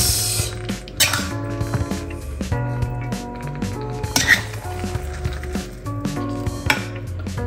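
Cooked Chinese-style garlic chicken wings scooped from a pan onto a serving plate, with repeated metallic scrapes and clinks of a utensil against the pan under a steady background hum, close by.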